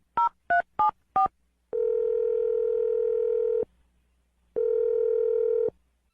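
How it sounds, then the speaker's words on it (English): Four quick touch-tone beeps, then a steady telephone dial tone twice, separated by a short silence; clear and close. "I'm going to dial his phone number right now"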